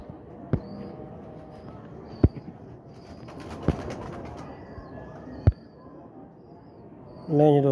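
Pigeons kept in a loft coo softly and steadily, with a few sharp knocks or claps breaking in and a brief flutter near the end.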